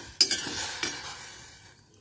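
Mango pieces stirred in a pot of boiling water, a sharp spoon knock against the pot followed by a softer scrape over a faint bubbling that fades away.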